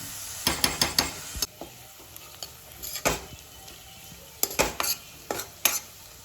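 Sliced onions frying in hot oil for egg biryani, a spoon scraping and clinking against the metal pan in bursts of stirring over a steady faint sizzle.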